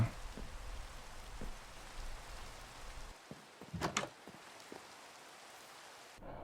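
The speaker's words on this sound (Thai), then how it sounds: "นี่ฝนก็ตกไม่หยุดตกทั้งวันเลยนะวันเนี้ยเอาจริง" Rain falls steadily in a Minecraft survival game, a soft continuous hiss of drops with scattered faint taps, which briefly drops away and returns near the end.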